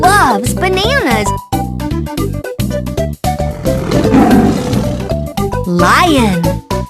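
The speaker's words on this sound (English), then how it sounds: "Lion." A lion roars in a children's animal sounds game, with short roars repeating between bursts of music and spoken words, loud and close.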